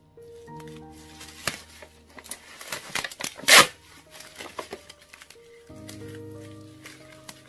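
A Tory Burch distressed leather bag being unboxed, with close rustling, crinkling and tearing of packaging and one loud rip partway through, under faint background music.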